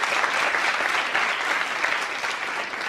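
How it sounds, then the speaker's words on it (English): Dense, steady applause fills a TEDx Sydney studio audience, a loud continuous wash of clapping with no break. "Round of applause."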